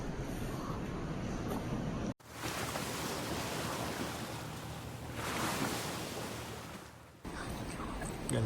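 Ocean surf at Burleigh Head on the Gold Coast, a steady close wash of breaking waves with wind buffeting the microphone, swelling slightly midway.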